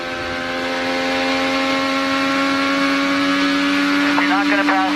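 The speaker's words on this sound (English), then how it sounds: "let's take a ride with the race leader, Marco Andretti" Onboard engine of an IndyCar leading a race at the Milwaukee IndyFest oval in 2013: a loud, steady, high-pitched engine drone holding near-constant pitch throughout, with brief chirping sounds near the end.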